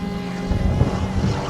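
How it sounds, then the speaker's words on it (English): Race cars on a track day at Anglesey Circuit, among them Ariel Atom, BAC Mono and KTM X-Bow cars, with a continuous engine roar blended with wind buffeting on the microphone, heard from trackside. "You hear the sounds of motor racing."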